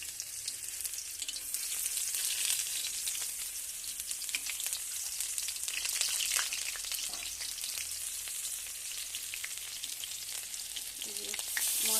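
Onions sizzle and fry in a hot pan at the start of a meat curry, a steady bright crackle with soft stirring scrapes, moderately quiet and close, with no talking.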